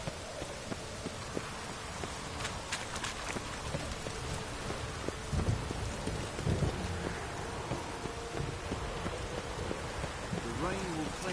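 Steady rain falling in a medieval city in The Witcher video game, a constant dense hiss with a low rumble of thunder rolling through the middle, alongside faint other game sounds.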